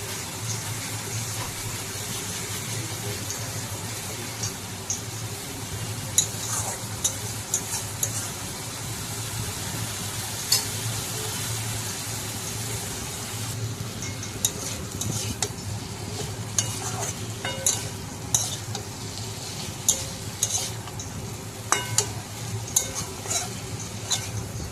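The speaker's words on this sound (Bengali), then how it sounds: "এখন মশলার সাথে ভালোভাবে নেড়ে নেব।" Cauliflower and potato pieces stirred with spices in a pan for a Bengali cauliflower and mung dal meal, giving a steady close sizzle with frequent scraping clinks from the spoon and no talking.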